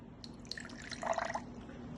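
A voice imitates pouring water in a beatbox challenge, making soft gurgling and dripping mouth sounds that swell briefly in the middle and then fade.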